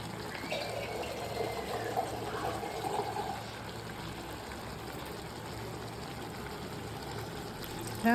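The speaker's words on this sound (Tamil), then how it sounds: "இப்போ அதுக்கு தேவையான ஒரு டம்ளர் தண்ணி ஊற்றிக்கலாம்" Water poured from a tumbler into a pan of sautéed vegetables for prawn curry, a steady soft trickling and splashing, fairly faint and continuous.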